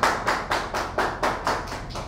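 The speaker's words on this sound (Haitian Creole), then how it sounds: "Je vais demander un bon bravo s'il vous plaît." A crowd at the live final of a Haitian community competition breaks into rhythmic applause for the winning finalist, about eight even pulses of clapping, steady and moderately loud, with no talking over it.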